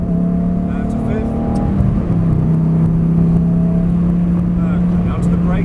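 A Lamborghini on a track driving experience at Prestwold, its engine droning steadily at cruising revs with a sustained low hum and a slight pitch shift near the middle, heard from inside the car while an instructor talks throughout.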